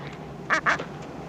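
Penguins calling on the ice give two short, loud honking cries in quick succession, close by, over a low steady background.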